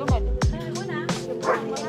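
A dog on a farm gives two quick close barks, then softer yips and whimpering, with a person talking over it.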